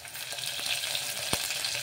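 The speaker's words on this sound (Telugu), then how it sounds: "ఇప్పుడు ఇందులోకి కొంచెం అల్లం వెల్లుల్లి పేస్ట్ అయితే వేసుకుందాము." Ginger garlic paste frying with onions in a pan, a faint steady sizzle with a light tap of a utensil.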